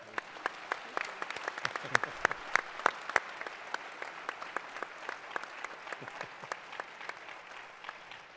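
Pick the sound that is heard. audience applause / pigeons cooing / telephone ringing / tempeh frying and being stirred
audience applause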